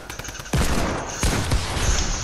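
A Tommy gun in a video game fires several sharp, loud automatic bursts, each with a hard onset and a short rattling tail, close up and with no talking.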